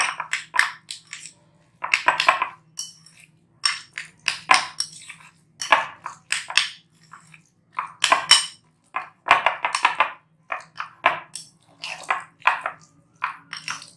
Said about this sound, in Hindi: अब हमने इसको अच्छा सा मिक्स करना है।